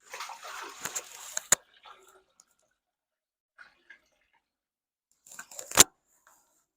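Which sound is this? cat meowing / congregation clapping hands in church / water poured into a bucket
water poured into a bucket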